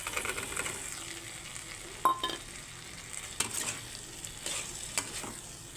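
Soybeans fried with spices in oil, stirred in a pan: a soft, steady sizzle runs throughout, with occasional spoon scrapes and clinks against the cookware.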